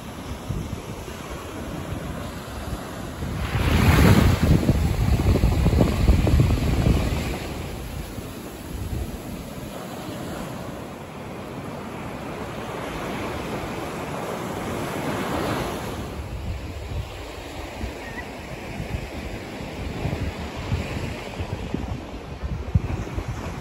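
Surf washing onto Uinian Beach on Semau Island, with wind buffeting the microphone; one loud wave surge early on, then a steadier rush of waves and wind with another swell later.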